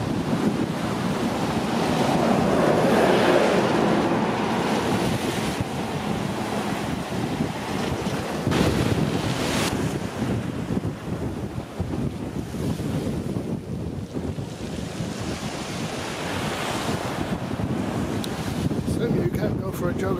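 Sea waves wash in continuously at Blue Anchor beach in West Somerset, with gusty wind rumbling across the microphone on a stormy day. Surf and wind noise fill the whole stretch at a steady, moderately loud level.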